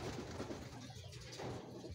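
Racing pigeons returning to the loft during a derby give low, soft cooing calls, faint and murmuring under a steady background hiss.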